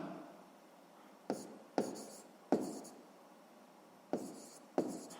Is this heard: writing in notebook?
yes